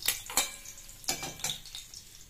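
Chhana (cottage cheese) pieces fry in a pan with a soft sizzle, punctuated by a few crisp utensil clatters and scrapes as pieces are turned.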